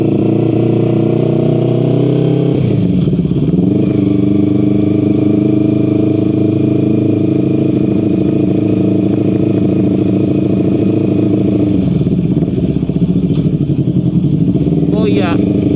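Yamaha R25 parallel-twin sport motorcycle engine, recorded close and loud, rising and falling through several revs with a steady droning idle in between, the RPM dropping back after each blip, with someone talking over it.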